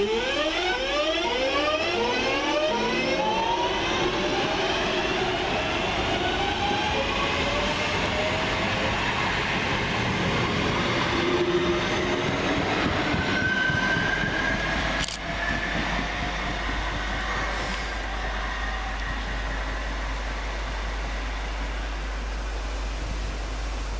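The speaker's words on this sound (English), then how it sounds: "let's begin with Northern Rail's 323225, working the 1057 service from Crewe through to Liverpool Lime Street." Northern Rail class 323 electric multiple unit at Lea Green station on the Crewe to Liverpool line, a steady rumbling run with rising whine and rail noise held close and loud throughout, no talk.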